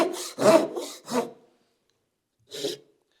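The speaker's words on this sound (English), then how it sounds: "let's take a look at how the crosscut saw performs cutting like it's supposed to across the grain" A Japanese crosscut saw cuts across the grain of wood, giving a few close, raspy strokes in quick rhythm, then a pause before one last stroke.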